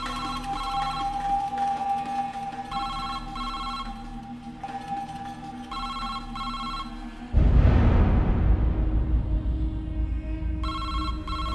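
A telephone rings repeatedly in regular bursts of electronic trills over background noise, with a louder rumbling rush partway through before the ringing continues.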